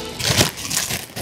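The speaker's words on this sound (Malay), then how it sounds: "Plastik ni bunyi kuat sangat." Loud, continuous crinkling of plastic packaging being handled up close, with bursts of crackle and no talking.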